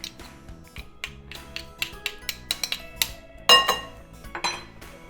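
A utensil scraping fresh garlic sauce out of a bowl, heard as a series of close, sharp metallic clinks and taps, irregular in rhythm, ending with a louder scrape and clatter.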